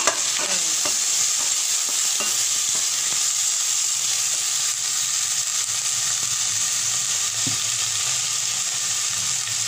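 Onions sauté in a pan with a continuous close sizzle and hiss, while the scrape of stirring comes through several times early on.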